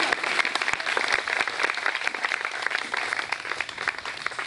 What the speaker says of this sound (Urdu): تالیاں بجا دیں.